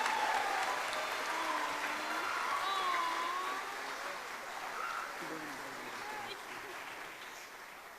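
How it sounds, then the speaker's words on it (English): An audience applauds at a school mariachi concert, a steady broad wash of clapping that holds, then gradually fades over the closing seconds, with faint voices underneath. "let's give one more round of applause to Clarissa Rodriguez"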